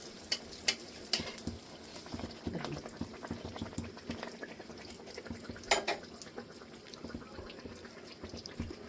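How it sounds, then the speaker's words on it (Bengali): Oil pitha, soft rice-flour cakes, deep-fry in hot oil in a village-style pan, giving a faint, continuous bubbling sizzle with scattered crackles and small stirring clicks. "মনে হচ্ছে আমি পুরি ভাজতেছি, তেল পিঠা ভাজতেছি"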